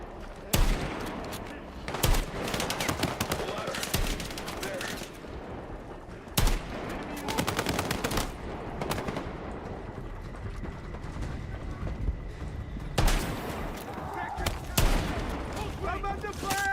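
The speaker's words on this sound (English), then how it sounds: "I'm under fire!" Gunfire in a Battlefield match: heavy bursts of automatic fire and loud single shots, with dense stretches of rapid shooting, while a player's voice is heard among the shots.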